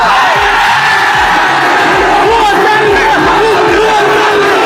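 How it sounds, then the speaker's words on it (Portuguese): Vasco football fans roar and chant as a loud, dense crowd, with rhythmic shouting pulses throughout and a voice calling out over them. "A torcida do Vasco!"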